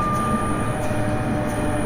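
A ScotRail Class 385 electric train runs toward Glasgow Queen Street, giving a steady, continuous rumble and hum with a faint high tone throughout and no speech.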